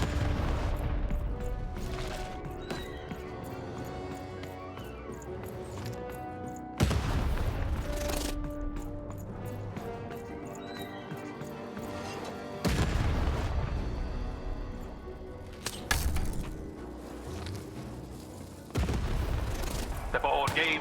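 Cannon blasts in the video game Lost in Random, several heavy booming shots spaced a few seconds apart, each with a sharp onset and a long ringing decay over game music.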